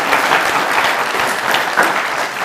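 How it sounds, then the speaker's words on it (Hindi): A studio audience at a comedy talk show breaks into loud, sustained applause, dense clapping that fills the whole stretch without pause. "तालियां हो जी।"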